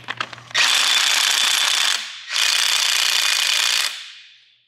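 Loud, close impact wrench removing the big crank pulley bolt on a BMW engine, hammering in two sustained bursts with a short pause between them, after a few light clicks.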